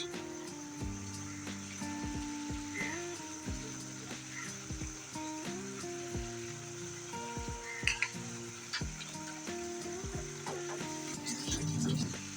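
Green chilies chopped fine go into a simmering poa fish curry in a pan, giving a steady close sizzle with scattered spoon taps and scrapes over a sustained tonal background.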